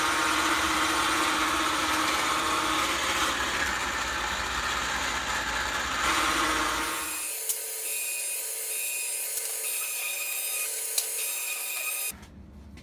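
A Pittsburgh lock forming machine runs sheet metal for HVAC ductwork, giving a loud, rough, grinding mechanical roar for about seven seconds before dropping to a quieter hum with faint clicks and a sudden stop.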